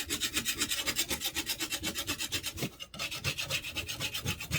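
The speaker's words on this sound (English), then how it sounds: "Let me get a smaller scraper here so I can focus on certain" A small hand scraper rasps steadily across a board that is not real wood, lifting off glitter in quick repeated back-and-forth strokes, close and fairly loud with no talking.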